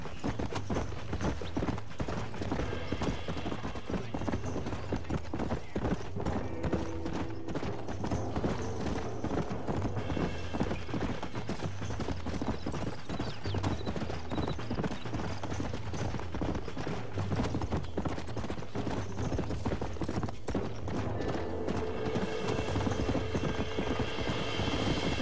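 Horse hooves clip-clop steadily in Red Dead Redemption, a continuous rhythmic trotting close up and fairly loud, layered over constant low ambient rumble for the whole stretch.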